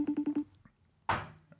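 A telephone being dialed to call someone: four quick evenly spaced keypad tones, then a brief pause and a louder burst of noise, heard close and alone with no talking.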